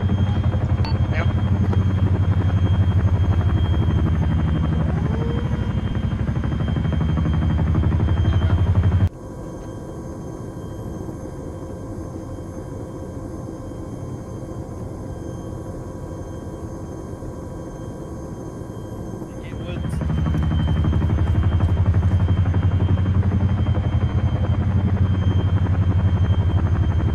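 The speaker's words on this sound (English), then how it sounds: "they're moving probably to investigate the chopper noise" Helicopter rotor drone in the Arma 3 military simulation game, a steady low rumble running throughout, dipping in level through the middle stretch before returning louder, with faint voices underneath.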